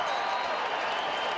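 Stadium crowd of over 40,000 at a CFL football game, Saskatchewan Roughriders at Edmonton Eskimos, a dense, sustained roar of cheering and applause filling the whole short moment.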